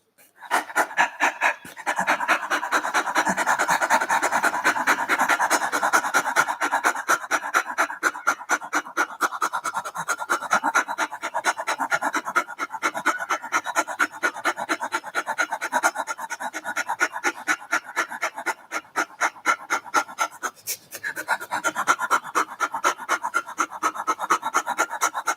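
Rapid, forceful rhythmic breathing of a pranayama kriya lung-capacity exercise, a dense train of quick panting breaths running steadily and close for the whole stretch, with a brief pause near the end before resuming.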